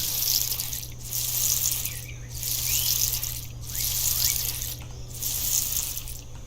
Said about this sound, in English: And then we water everything.